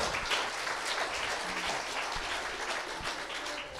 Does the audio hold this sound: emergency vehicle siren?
no